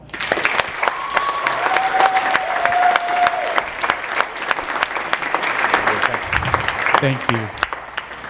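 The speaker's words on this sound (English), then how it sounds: "Big round of applause." An audience claps warmly at a summer youth retreat as a speaker is introduced, steady applause throughout with whistles in the first half and a short spoken thanks near the end.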